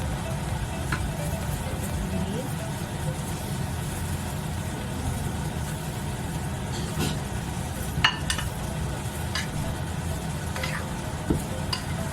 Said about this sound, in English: This is the fried fish fillet, and just put it in the sauce.